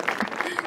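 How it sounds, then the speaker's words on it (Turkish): Brief applause from a small audience welcoming a guest at a talk on positivity, a short burst of clapping mixed with crowd noise. "bir alkış alalım."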